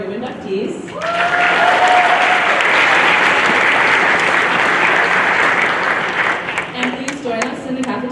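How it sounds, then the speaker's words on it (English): Applause for National Honor Society inductees at a school induction ceremony, a loud, sustained burst of many hands clapping that swells in, holds for several seconds and then thins out, with brief voices near the start and end. "Let's have one more round of applause for our new inductees."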